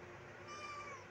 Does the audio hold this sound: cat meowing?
yes